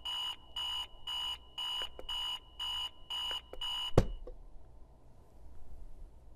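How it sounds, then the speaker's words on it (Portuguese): A digital alarm clock in the game Virginia sounds in eight regular loud beeping bursts, then a sharp click cuts it off, leaving quiet room tone. "Alarme do relógio."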